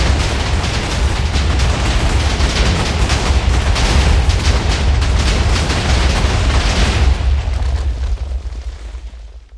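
A loud, sustained Minecraft explosion roars and crackles as a dense rumbling burst for about eight seconds before tailing off, with no talking over it.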